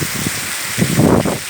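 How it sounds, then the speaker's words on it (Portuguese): Heavy night rain falls in Tejuçuoca, Ceará, a dense steady wash of drops on surfaces that swells louder toward the end, with no voices. "Muita chuva em Tejuçuoca."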